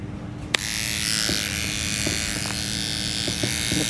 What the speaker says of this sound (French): Je prends mon petit rasoir vite.